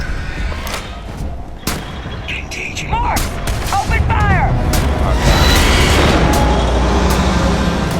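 Weapon fire aimed at a cloaked Terrormorph in the video game Starfield, with loud thumping booms and rapid bursts over game effects, while a voice talks over the action.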